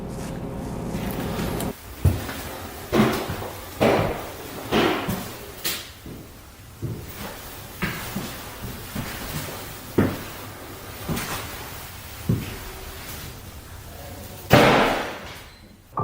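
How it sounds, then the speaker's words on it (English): Inside an abandoned building, a run of sharp bangs and knocks like a door slamming repeats at irregular intervals, moderately loud against a quiet, hollow background. "It sounds like a door slamming somewhere inside."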